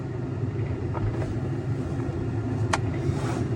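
A skid steer with frozen tracks runs on a snowy morning, its engine giving a steady low rumble that continues throughout, close by and even in level, with no voices.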